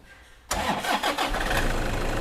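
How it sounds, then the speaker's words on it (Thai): After a short quiet moment a car engine with a turbo boost pressure sensor under inspection cranks and catches abruptly, then settles into a steady, loud idle. "ติดเครื่องยนต์ครับ"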